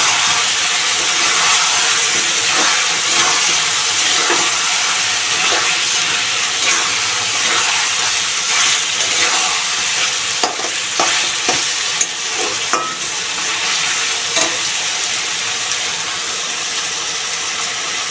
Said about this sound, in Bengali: এখন আমি টমেটো আর কাঁচামরিচ দিয়ে দিলাম এর ভিতরে